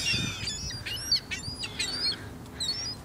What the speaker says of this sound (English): No, the blackbirds, black crows.